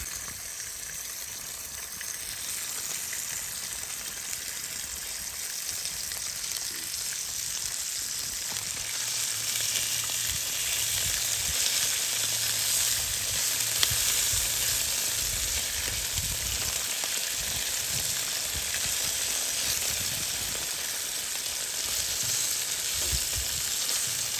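Food fries in a very hot Lodge skillet on a Bass Pro Shops camp stove by a lake, a dense, steady sizzling hiss that runs on without a break, close and loud, with no voices.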